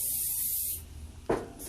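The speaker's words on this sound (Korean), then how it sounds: "스프레이 뿌리고" Hairspray is sprayed onto hair during an updo styling session: a sustained hiss for under a second, then a second short spritz and a brief third puff, close and fairly loud.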